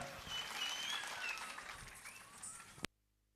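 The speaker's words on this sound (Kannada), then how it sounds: "ದಯವಿಟ್ಟು ಜೋರಾದ ಚಪ್ಪಾಳೆಯೊಂದಿಗೆ ಕೊನೆಯ ಬಾರಿಗೆ ಸ್ವಾಗತಿಸಿ ಸಾಮುದಿಶ್ಯ ತಂಡ" Audience applause greets a performing troupe at a temple consecration celebration, a dense, steady clapping that keeps up for nearly three seconds before breaking off abruptly into silence.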